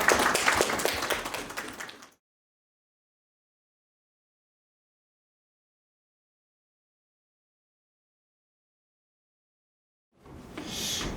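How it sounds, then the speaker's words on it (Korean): Brief burst of clapping from a forum audience welcoming an award-winning Busan architect, loud for about two seconds before breaking off into silence, then resuming faintly near the end. "큰 박수로 맞이해 주시기 바랍니다"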